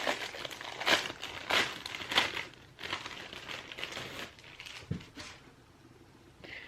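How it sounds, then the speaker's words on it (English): Pink wrapping paper printed with Santa is torn and crinkled off an advent calendar book gift, giving loud, close bursts of crackling and rustling that come in irregular waves, then trail off into softer handling. "So now we open up the pink wrapped paper with Santa on the cover"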